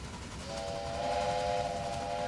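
In Railway Empire, a steam train's whistle sounds as one sustained, steady multi-tone blast over rumbling rail noise, starting about half a second in and holding to the end.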